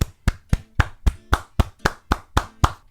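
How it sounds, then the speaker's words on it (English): A single pair of hands claps about ten times in a steady, evenly spaced rhythm, close and distinct, with silence between each clap and no talking. "I just want to give a round of applause for the brothers, man."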